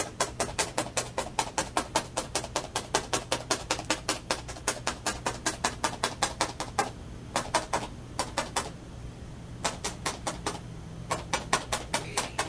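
Paper being torn by hand, made as a run of rapid, crisp ripping crackles in close succession, with a couple of short pauses and then more bursts, close up and steady in loudness without any talking.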